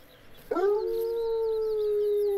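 A dog in a hunting video game lets out a single long, sustained howl that starts abruptly and holds a steady pitch, loud and close, with no talk over it.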